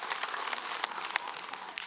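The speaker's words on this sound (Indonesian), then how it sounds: "Sekali lagi tepuk tangan buat guru kita Habib Muhammad Syahab" Short burst of audience applause at an Islamic religious lecture on Indonesian television, a brisk wash of many clapping hands, steady and moderately loud.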